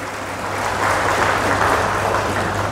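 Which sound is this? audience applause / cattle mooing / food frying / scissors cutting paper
audience applause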